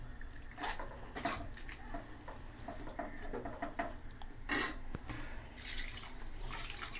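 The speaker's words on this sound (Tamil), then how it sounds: "இப்போ தண்ணி நம்ம எவ்வளோ ஊற்றணும்னா சிக்கன் மூழ்கிற அளவுக்கு ஊற்றணுங்க" Water poured into a pot of chicken gravy until it covers the chicken: a soft, steady splashing patter with a few drips, faint and close, with no talk over it.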